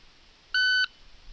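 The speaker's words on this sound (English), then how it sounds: "I'll just turn off the second beep." A handgun shot timer gives a single steady electronic beep of about a third of a second, clear and close over a quiet background during draw practice.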